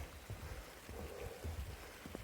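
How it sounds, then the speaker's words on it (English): Rain falls steadily in the woods, a soft, continuous patter on leaves and ground that gets a little heavier. No voices are heard. "Rain's picking up."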